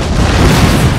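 Cannon artillery fires in the Napoleon: Total War video game, one loud, heavy, rumbling boom that fills the whole moment.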